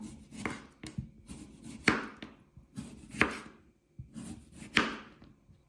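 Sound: slicing fresh cucumber with a knife

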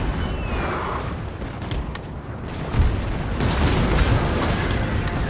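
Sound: cannon fire in video game Total War: Napoleon

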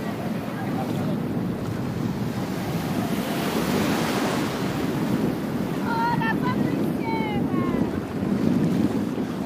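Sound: waves on the beach at Cala Brandinchi

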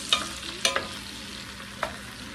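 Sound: spoon stirring potato soup in a pot

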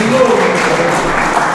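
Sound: audience applause

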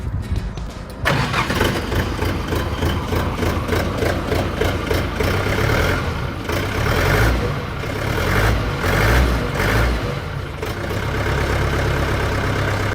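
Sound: diesel mini tractor engine running

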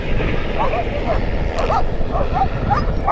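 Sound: sled dogs barking

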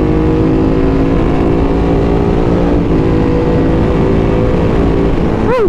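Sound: motorcycle engine revving

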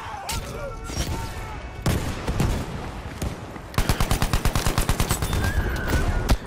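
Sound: sniper rifle shot in the video game Battlefield 5

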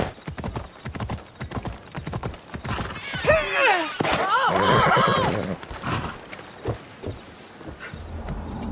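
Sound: horse hooves in a video game

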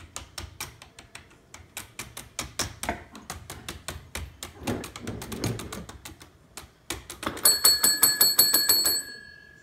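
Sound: bell being rung

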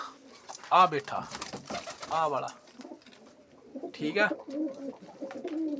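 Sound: pigeons cooing

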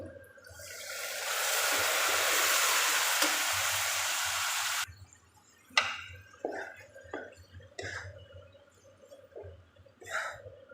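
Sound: boiled mung dal added to a pan, stirring and frying

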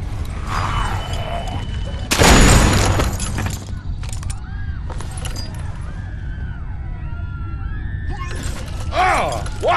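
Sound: gunshot in The Walking Dead video game

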